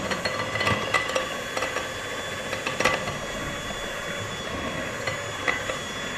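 Flour is stirred into cookie dough in a bowl, with soft repeated scraping and knocking strokes at an uneven rhythm over a steady background hum.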